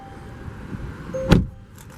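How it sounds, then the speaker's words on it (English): A single solid thump of a 2020 Volvo XC40 door shutting, loud and close, following a short whirring hum. "And we'll go ahead and close the door."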